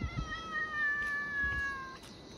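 A street cat gives one long, drawn-out meow with a harsh, yowling edge, close and clear over quiet background rustling, with no talking.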